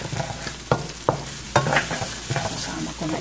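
Garlic and onion frying in a pan, a steady sizzle broken by several sharp scraping strokes of stirring, close and fairly loud, no talk.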